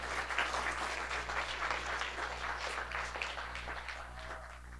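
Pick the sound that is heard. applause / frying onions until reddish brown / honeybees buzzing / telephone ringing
applause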